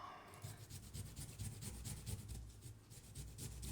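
Fresh ginger is grated in quick, rhythmic rasping strokes, about three per second, close up and fairly soft, with no voices.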